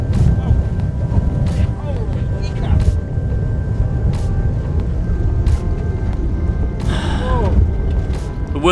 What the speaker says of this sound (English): Wind got my beer, Craig.